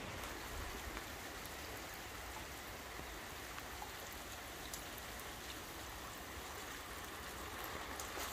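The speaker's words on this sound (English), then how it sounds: "I don't know if you can hear the rain." Heavy rain comes down outside, a dense, steady hiss of drops on surfaces that continues without a break.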